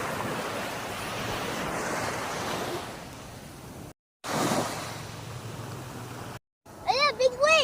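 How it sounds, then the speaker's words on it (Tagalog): Ocean waves break and wash onto a beach at a resort in a steady, loud roar, mixed with gusty wind on the microphone and two brief dropouts, with voices calling out over the surf at the end. "Ayan, big wave! Big wave! Big wave!"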